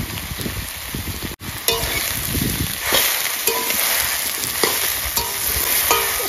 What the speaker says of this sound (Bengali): শাপলা ভাজা অল্প সময় চাই,